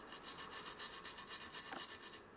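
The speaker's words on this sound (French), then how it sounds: "On brosse ici." A brush scrubs a circuit board wet with isopropyl alcohol in quick, rhythmic back-and-forth strokes, a faint, close, scratchy rubbing with no talk.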